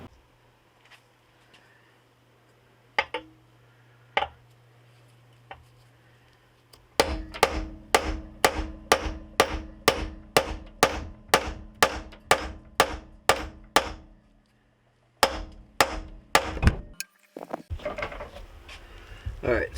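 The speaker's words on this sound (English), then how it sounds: "I've just been bashing away at this with the chisel instead of hitting it with the saw" Metal chisel hammered against spot welds on an EF Honda Civic chassis. A few scattered strikes give way to a steady, fast run of sharp, loud metallic blows, close by. After a short pause a final cluster of hits follows.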